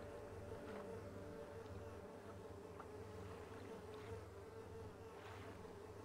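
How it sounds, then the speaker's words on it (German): Insects buzzing, bees or flies, in the video game Schizm: a steady, close drone holds throughout over a low hum, with a few brief louder swells. "Ich höre Insekten. Ich hasse Insekten. Sind das hier Bienen oder einfach nur Brummfliegen?"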